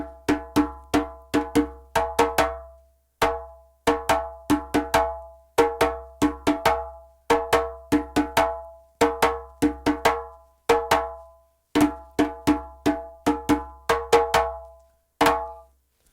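A djembe plays rhythm number two of the West African piece Diansa in repeating bursts of sharp, ringing strokes, with short gaps between the phrases. The drum is heard up close and alone.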